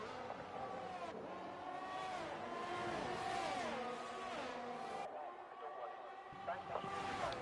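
Race car in a racing video game accelerating hard out of the final corner at the Austria circuit, engine note rising and falling through gears, with a commentator talking over it throughout.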